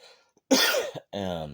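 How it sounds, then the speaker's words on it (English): A single harsh, throaty cough bursts out close to the mic, followed by a brief voiced sound, with quiet moments around it. "Sorry for the cough."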